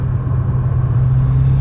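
A Mitsubishi Lancer Evo X engine on its stock exhaust holds a loud, steady, deep bassy rumble throughout, with no speech.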